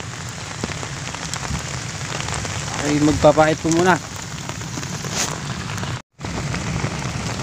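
Steady rain pattering on a surface throughout, during fishing for ayungin at Calumpit, Bulacan, with someone briefly speaking over it and a short dropout near the end.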